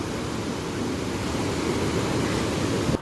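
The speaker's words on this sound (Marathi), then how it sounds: "या पाईपामधून किती पाणी येत आहे वाहत आहे" Water gushing from a pipe at Barvi Dam near Badlapur makes a steady, dense roar that fills the whole stretch without a break, loud and close, with no voices over it.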